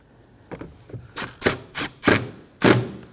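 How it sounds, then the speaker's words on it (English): Two screws are driven into a plastic trim panel on a 2017-2024 Nissan Armada, giving a close series of short ratcheting, grinding bursts at an uneven rhythm with no talking. "Now we can go ahead and install these 2 screws."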